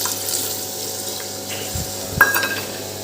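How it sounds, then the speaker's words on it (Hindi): Water pours steadily into a cooking pot in a home kitchen as a meat curry is being made, a continuous close splashing with a brief clatter near the end and no talking. "इसमें अब पानी शामिल करूंगा मैं"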